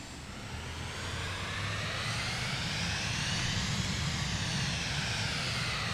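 A Cirrus Vision Jet's engine runs in Microsoft Flight Simulator 2024, a steady whooshing jet roar with a faint rising whine that holds evenly throughout, near and unbroken.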